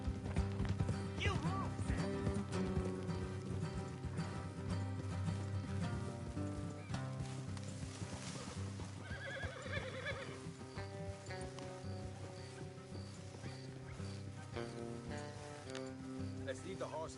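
Horses on a trail neigh and whinny while hooves clip-clop, blended with a continuous music bed and occasional voices, moderately loud and steady throughout.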